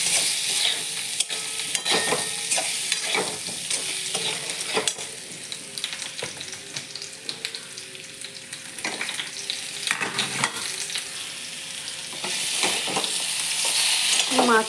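Potato and pointed gourd sautéing in a hot pan, a continuous sizzle and frying hiss broken by repeated scraping and stirring strokes of a spatula, close and steady with no talking.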